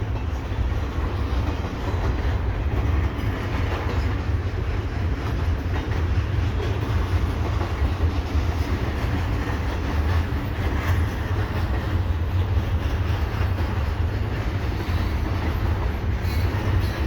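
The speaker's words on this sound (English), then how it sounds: "This is possibly train 133, but I'm not sure." A long CPKC double-stack and mixed freight train rumbles steadily past nearby at Dorval, a continuous heavy roar with faint rhythmic clatter of wheels on rails and no talking.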